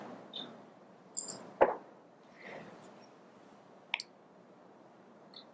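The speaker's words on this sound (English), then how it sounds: "every time she was giving the learner a block, there was a click happening right now" Sharp training clicker clicks during a PORTL lab demonstration in a room, with two crisp, distinct clicks heard, one loud and one fainter, among soft scattered handling sounds.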